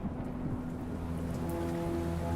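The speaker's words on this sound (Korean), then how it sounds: "소나기가 떨어지기 시작했다." A steady rain shower with thunder, the dense patter of drops continuous and even throughout, with a low rumble of thunder rolling underneath, no voices.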